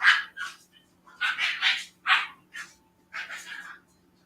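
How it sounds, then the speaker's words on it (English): Several American Bully dogs bark in repeated short bursts and clusters, fairly close, with brief pauses between volleys over a faint steady background hum. "listening to the dogs"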